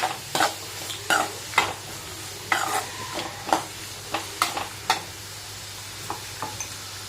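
Carrots, beans and other vegetables sizzle softly in a pan while a spatula scrapes and stirs in irregular strokes, close up.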